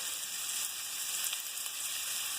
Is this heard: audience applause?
no